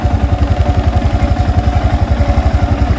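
A motorcycle engine idles close by with a steady, even thumping pulse and a faint mechanical clatter, with no voices over it.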